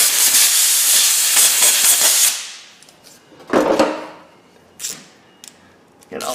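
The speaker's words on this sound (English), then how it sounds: "We grab a blow nozzle" A compressed-air blow nozzle blasts debris off a Jeep WJ rear brake, a loud hissing burst for about two seconds, followed by short sharp air puffs and a few faint bumps.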